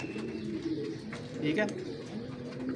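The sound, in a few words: pigeons cooing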